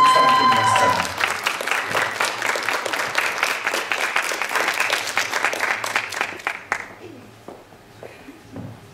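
Theatre audience at a regional youth drama and vocal festival applauds a performance: dense, loud clapping from a crowd that holds steady for about seven seconds, then thins into scattered claps and fades.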